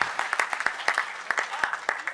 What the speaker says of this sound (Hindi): जोरदार तालियां, एक बार महोत्सव दे तालियों का